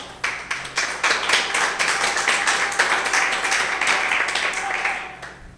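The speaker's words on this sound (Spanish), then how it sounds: "Dale un aplauso a Jesús" Church congregation applauding for Jesus during a sermon, a sustained burst of many hands clapping that rises quickly, holds for about five seconds, then fades out.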